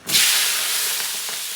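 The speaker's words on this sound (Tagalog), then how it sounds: "So pagsasabayin na natin ito gisa, itong sibuyas at saka kamatis." Onion and tomato hit hot cooking oil together for a Filipino chicken pork sinigang, giving a loud, sudden sizzle that settles into a steady bright hiss close by, with no talk.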